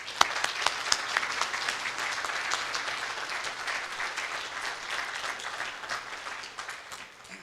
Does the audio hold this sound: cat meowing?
no